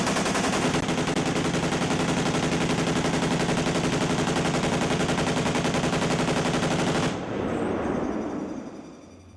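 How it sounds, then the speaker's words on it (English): A machine gun firing blanks on a film set, an intense, continuous rapid-fire roar lasting about seven seconds at very close range, then cutting off into a fading echo and rumble. "you better hope that gun fires because you don't have enough money to do it a second time"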